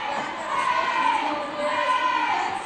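A roller derby crowd at a 2019 WFTDA Continental Cup game in Europe cheers in a continuous, swelling roar of many voices with high shouts layered on top, steady and fairly loud throughout.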